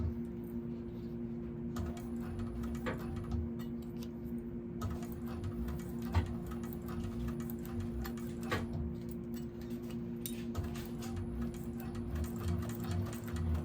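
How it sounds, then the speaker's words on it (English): A 1341 cylinder arm sewing machine with a narrow foot stitching a vinyl seam on a bag, running in long continuous bursts of fast, even ticking over a steady motor hum, close with no talk. "I'm going to sew the seam allowance that says in the pattern using my narrow foot, back stitching from end to end"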